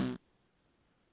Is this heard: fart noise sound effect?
yes